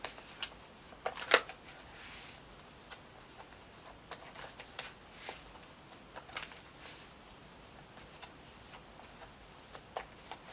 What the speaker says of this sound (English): I'm going to pull an Archangel Michael card